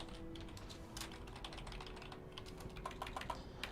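Rapid, uneven clicking of keys on a computer keyboard, fairly quiet and close, in bursts of light taps with no talking.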